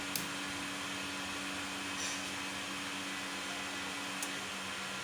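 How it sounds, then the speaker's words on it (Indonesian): Two electric blowers running together as the load on an 8000 W low-frequency inverter panel, a steady, moderately quiet whooshing drone with a faint hum and a few small clicks. "Terdengar ya untuk bebannya kedua blower."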